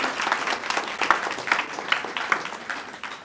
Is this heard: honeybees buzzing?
no